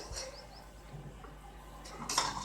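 Bread omelette batter of eggs and milk being mixed in a bowl, with a few faint spoon clinks and light taps against the bowl scattered through a quiet background.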